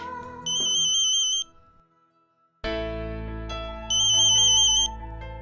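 An electronic phone ringtone plays in two loud bursts of bright, warbling tones, with a short gap between them and a low musical backdrop underneath.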